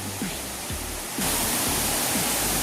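Salat Dai waterfall on a forest trail in Nakhon Nayok, Thailand: a broad, steady rush of falling water that swells louder partway through, with a few faint thumps underneath.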